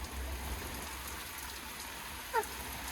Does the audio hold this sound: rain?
yes